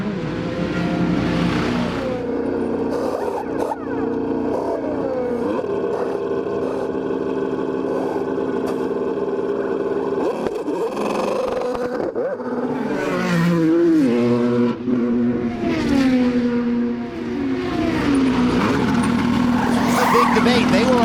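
IndyCar race cars lap the track at the Sonsio Grand Prix, their engine whine rising and falling continuously beneath steady commentator talk.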